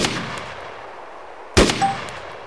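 Two gunshots from an AR-15/M16 style rifle in the video game DayZ, one sharp loud report at the start and another about a second and a half later, each followed by a short ringing decay.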